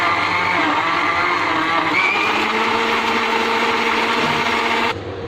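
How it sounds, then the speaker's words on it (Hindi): A mixer grinder whirs loudly and steadily as it grinds chopped tomatoes, a continuous high motor whine that runs for about five seconds before cutting off abruptly. "तो यहाँ हम टमाटर को ग्राइंड करेंगे।"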